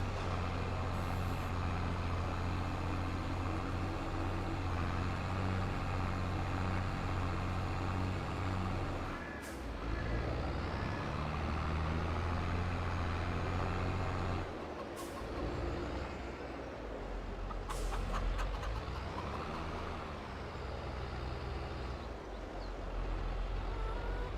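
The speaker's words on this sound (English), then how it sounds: "It sounded like thunder, but it's quite sunny at the moment. It must have been a big truck or something." Deep, loud, continuous truck rumble in the Farming Simulator 22 video game, droning steadily for over twenty seconds with a few brief bumps and no talking.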